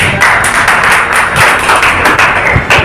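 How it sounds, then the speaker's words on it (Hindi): An audience at a personality development seminar in Chhatarpur claps for Ashish sir, a steady wash of many hands with sharp individual smacks, close and continuous for the whole stretch. "और एक बार हमारे आशीष सर के लिए ताली"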